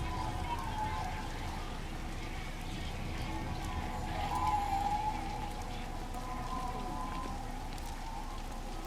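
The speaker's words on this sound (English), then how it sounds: "Typical. Started raining." Steady rain patters over a landscape in the game Everybody's Gone to the Rapture, a dense even hiss that runs throughout with a faint tonal hum in the background.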